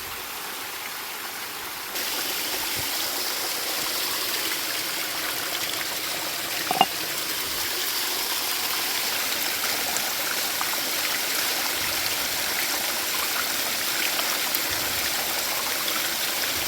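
Small waterfall pouring into a natural pool, a steady broad rushing wash of water that holds constant throughout, close and continuous with no voices.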